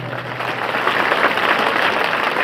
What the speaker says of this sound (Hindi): सर के लिए एक बार जोरदार ताली हो जाए